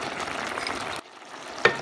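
Chicken fajita with spices sizzles and is stirred in a pot, a steady close frying hiss that drops away briefly before a single sharp clink of the utensil, with no voices.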